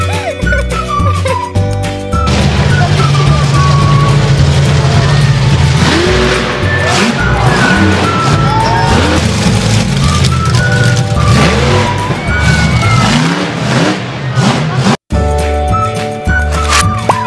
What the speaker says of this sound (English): Monster truck.